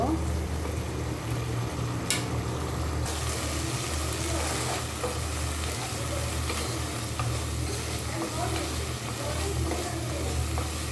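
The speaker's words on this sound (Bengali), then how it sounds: "চিংড়ি মাছের সাথে আমি মশলাগুলো ভালো করে একটু কষিয়ে নিব" Shrimp sautéing in a pan with garlic paste and onion paste for a vegetable curry, giving a steady, dense sizzle that runs without a break, with soft stirring scrapes underneath.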